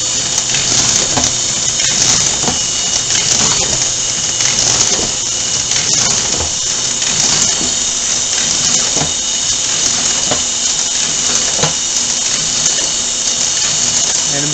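A Mailcrafters 1200X six-station inserter stuffing 10 x 14 envelopes runs steadily and loudly, a dense mechanical whir with rapid repeating clicks and ratcheting from its gears, continuous throughout with no talk.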